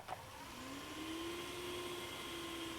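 A Dreame X50 Ultra robot vacuum picking up spread-out hair from a floor, giving a steady, moderate motor whir with a rising tonal whine that settles into a constant hum, no voices present.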